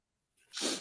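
A single sharp sneeze bursts out after a brief silence, close and loud, then fades quickly.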